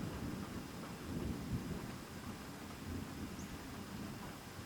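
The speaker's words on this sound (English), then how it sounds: "And it's thundering." Low, rolling thunder rumbles steadily through a wet outdoor rain scene in rural Wisconsin, a distant continuous roar with swells near the middle and no voices.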